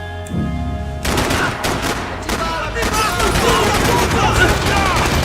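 Dense bursts of rapid gunfire fill a Max Payne 3 firefight after a brief lead-in, with sustained overlapping shots and crackling impacts at loud, close range.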